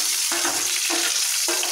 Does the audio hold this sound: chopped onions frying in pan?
yes